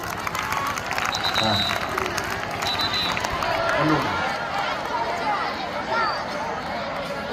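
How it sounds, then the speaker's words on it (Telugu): Loud applause from a crowd, a dense continuous clatter of clapping with some voices and chatter mixed in. "ఒకసారి గట్టిగా చప్పట్లు మేడం గారికి"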